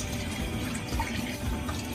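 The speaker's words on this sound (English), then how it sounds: "Now you can add your chicken broth." Chicken broth pours into a pan of pasta sauce with lemon juice, a steady, soft liquid trickle and splash that runs for the full two seconds without talk.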